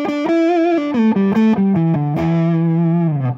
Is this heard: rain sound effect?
no